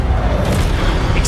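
A heavy, booming spell blast in the Hogwarts Legacy game, the Expelliarmus disarming charm, a loud sustained low rumble filling the whole short moment with a bright crackle near the end.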